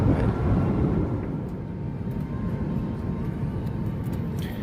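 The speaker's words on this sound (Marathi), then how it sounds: "विमान आपलं वर गेलं" Steady, broad engine roar of an airplane in flight from Mumbai to Delhi, a constant loud drone heard from inside the cabin with no voices.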